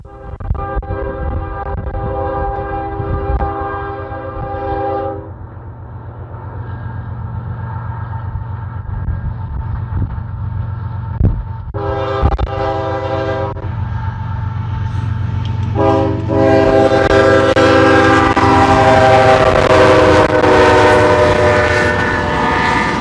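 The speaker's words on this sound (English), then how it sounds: "caught a mixed freight going east into the yard on the UP Sydney subdivision" An eastbound Union Pacific mixed freight train rolls into the North Platte yard on the Sydney subdivision in strong wind, its horn sounding in several long chords over the heavy rumble of passing cars, loud and close.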